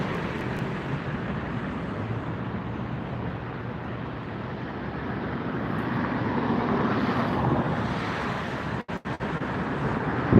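An Alaska Airlines airliner at LAX gives a steady, broad roar that swells slightly toward the end, mixed with wind rumble and no talking.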